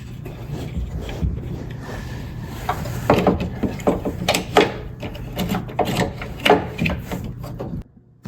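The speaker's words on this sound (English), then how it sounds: "let's put the springs on the new scraper." Clicks, scrapes and metallic clanks of springs being fitted onto a new Toro snow blower scraper, close and irregular, with sharp taps clustered in the middle and a brief hum underneath.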